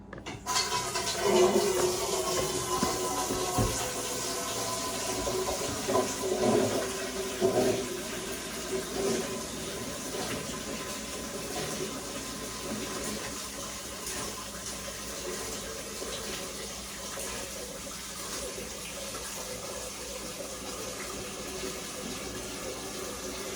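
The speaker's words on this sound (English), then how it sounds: "Fill her up with some cold water and spuds." Cold tap water runs steadily into a cleaned-out boiling pot for potatoes, loud at first and then settling into an even rush that continues to the end.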